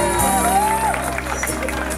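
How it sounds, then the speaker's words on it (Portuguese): A live audience claps and cheers for a volunteer called onstage, a steady wash of applause with scattered whoops and shouts that holds loud throughout. "Uma salva de palmas, galera!"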